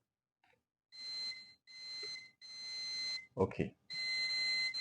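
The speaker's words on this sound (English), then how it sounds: "right now it is beeping, telling me that there is no breakage" A digital clamp meter gives long steady electronic beeps during a cable continuity test, four tones with short gaps, close and clear, while a voice briefly speaks between them.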